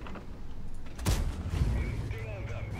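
A single tank gun shot from the Conway 4004 in a tank video game, a sharp boom in the middle followed by a rumbling tail and mechanical creaks, with a player's voice talking around it.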